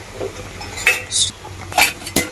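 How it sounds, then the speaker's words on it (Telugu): Cooked bottle gourd is moved into another pot, with a few sharp metallic clinks and scrapes of a spoon against the vessels, spaced irregularly over a quiet kitchen background. "కబాబ్ చేసుకొని ఇదంతా వేరే గిన్నెలోకి తీసుకుంటున్నా ఉడికింది మంచిగా"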